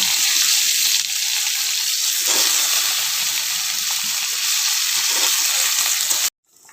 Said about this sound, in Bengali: শিম আর আলুটা ভাজা বানিয়ে নেব।